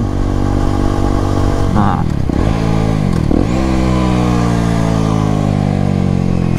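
An Aprilia SX 125 motorcycle engine revs loud and close, its pitch climbing and dropping through a couple of quick throttle blips over a steady idle, with a brief voice exclamation.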